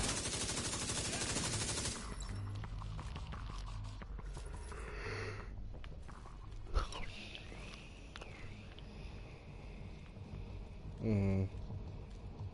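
Rapid gunfire from the shooter game The Division 2 on PS4 rattles through a dense, busy mix, with a sharp louder burst midway and talk passing over the action.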